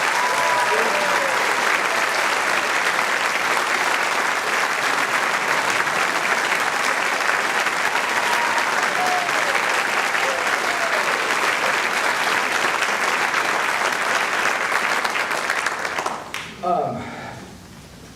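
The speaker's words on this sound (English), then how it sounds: "Let's give them the warmest round of applause." Loud, sustained audience applause for a jazz ensemble at a concert, dense steady clapping filling the room for about sixteen seconds before trailing off abruptly at the end.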